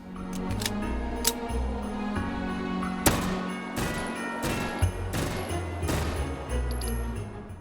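Short bursts of gunfire from a rifle with a large muzzle brake in the VR shooter H3VR, several sharp cracks in quick clusters over a steady background hum, fairly close and loud.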